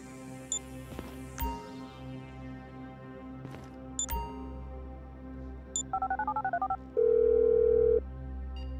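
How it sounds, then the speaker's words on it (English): A phone call is placed in Grand Theft Auto V: a quick burst of dial beeps is followed by a steady, loud tone, with scattered clicks and chimes from the game beforehand. "I'm making the call."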